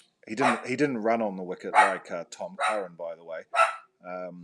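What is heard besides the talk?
dog barking in the background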